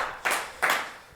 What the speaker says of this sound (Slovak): takže tak asi potlesk